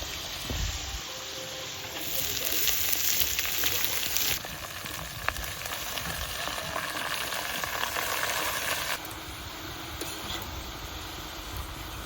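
Cabbage dropped into hot oil in a wok with fried potatoes sizzles in a steady loud hiss that swells for several seconds, then settles into a quieter frying crackle, close by with no voices.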